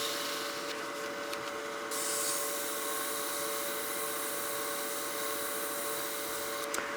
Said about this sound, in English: So we're just going to sand those.